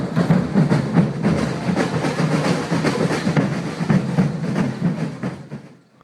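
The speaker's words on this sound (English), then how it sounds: "The alfaya drums are doing this cool syncopation." Maracatu drumming with syncopated alfaya bass drums, a dense, loud ensemble of rapid repeated low drum strokes and rattling percussion pulsing steadily for about five seconds before fading.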